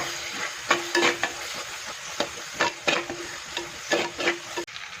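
Crushed garlic and cumin sautéing in a pan, a soft continuous sizzle punctuated by repeated sharp scrapes and taps of a spoon stirring against the pan, close and fairly steady.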